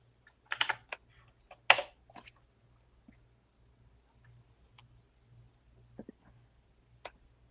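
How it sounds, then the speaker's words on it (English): Typing on a computer keyboard during a live online Q&A: a few quick bursts of soft key clicks followed by scattered single taps, faint and alone over a low steady hum. "I'm going to type in the next question due to the technical difficulties we're having."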